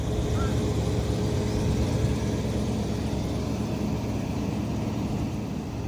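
A supercharged 2006 Range Rover L322 that had been sitting for a couple of days runs at a steady idle, with an even, continuous engine drone close by and a faint voice in the background.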